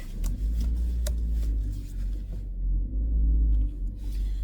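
A family car creeps slowly up to a house to park, its low engine rumble steady and close with faint rolling noises, no talking heard.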